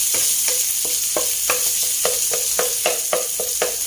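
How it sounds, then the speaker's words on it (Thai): Salted egg stir-fried over low heat in oil with golden fried garlic: a steady sizzle broken by about eight rhythmic spatula scrapes and stirs, close up, with no talking. "เจียวกระเทียมเหลืองดีแล้วนะคะ ก็จะใส่ตัว ไข่เค็มลงไปผัดค่ะ"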